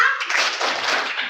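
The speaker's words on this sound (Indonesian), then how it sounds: "Oke, tepuk puasa." Schoolchildren at a Ramadan program clap the 'tepuk puasa' chant together in a quick, even rhythm that stays loud and close for the whole moment, with no talking over it.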